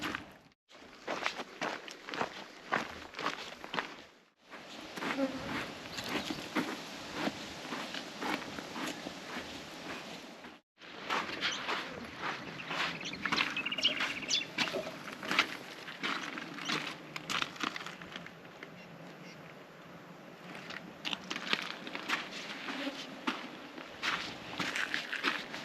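Steady footsteps crunch along a hiking trail through shaded woodland on the Larapinta Trail, close and continuous with a brief pause partway through and no talking.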